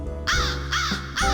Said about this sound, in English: She began to caw.